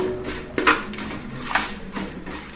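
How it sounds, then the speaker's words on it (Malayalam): Chopped shallots dropped into a pan for a Kottayam-style fish curry, a few soft clinks and knocks of a utensil against the pan over a low background hiss. "ഉള്ളി, ചെറു ഉള്ളി അരിഞ്ഞതാണ് ഞാൻ ഇതിനകത്തോട്ടേക്ക് ഇടുന്നത്. അതൊന്ന് നമുക്ക് വാട്ടിയെടുക്കാം."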